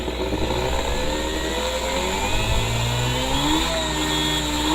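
A CNC router spindle ramps up to about 15,000 RPM, giving a loud, continuous motorized whine whose tones climb steadily in pitch before holding near the top, close and unbroken over a low hum, with no talking.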